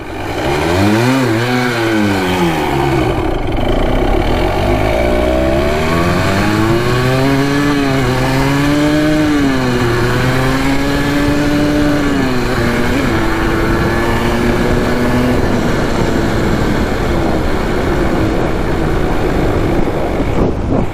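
A Honda ATC 250R three-wheeler engine revs hard and continuously while ridden through snow, loud and close, its pitch sweeping up and down through repeated throttle changes for about twenty seconds with no talk.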